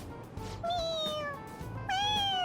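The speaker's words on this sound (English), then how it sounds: "It meows when you press on its head." Two clear meows from a pressable toy cat in Persona 5 Royal, each a bright, drawn-out tone, the second louder, over faint game background.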